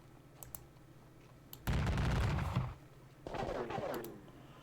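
Two bursts of rapid gunfire from the Battle of Bautzen war video game, each lasting about a second and separated by a brief pause.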